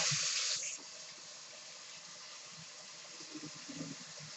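Water runs from a kitchen sink tap while mac and cheese is being made. It starts with a loud, hissing gush for about half a second, then settles into a steady, softer flow. Faint clinks are heard near the end.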